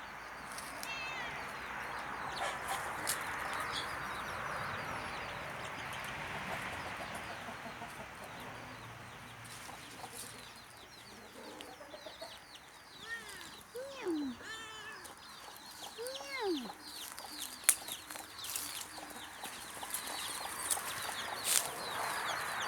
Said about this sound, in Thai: นี่คือไก่ดำ แล้วก็นางเลี้ยงลูกๆทั้ง12ตัวนะคะ